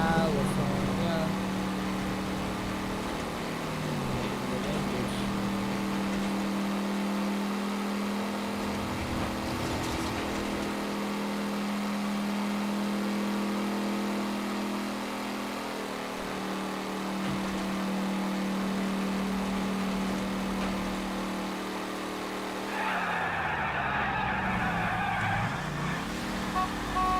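A car in LA Noire drives and overtakes in traffic. The engine drones steadily and shifts pitch as it accelerates, and a voice talks over the vehicle noise.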